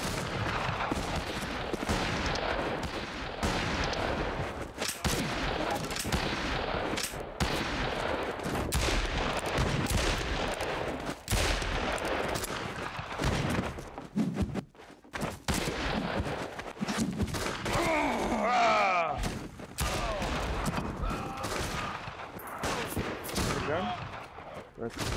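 Gunfire in the Western shooter game Fistful of Frags: loud repeated shots and bursts crowd the scene, with brief gaps and quieter stretches, and talk mixed among them.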